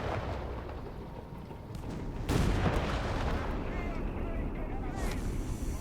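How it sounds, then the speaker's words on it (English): A Panzer III tank shelling an infantry section in Company of Heroes 3: a steady rumble of battle, then a heavy blast near the middle that leaves the din louder and busier afterward. "Section being blasted by the Panzer 3."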